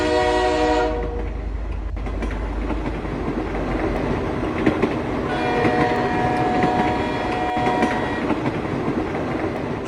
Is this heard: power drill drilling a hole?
no